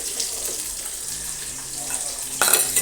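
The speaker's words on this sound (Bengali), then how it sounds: "তেলটা গরম হয়ে গেলে আমি পেঁয়াজটা ভেজে নেবো" Hot oil sizzles and crackles close by as onions fry, with a brief scraping stir and a sharper burst of hissing toward the end.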